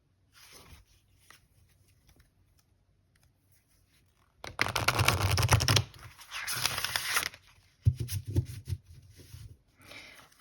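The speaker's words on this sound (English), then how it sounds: "this blue deck I usually riffle shuffle on the side like this because they are quite big" Riffle shuffles of a large, oversized deck of bird-themed cards, heard as two or three bursts of rapid fluttering card slaps after a quiet start, each lasting a second or two, close and fairly loud.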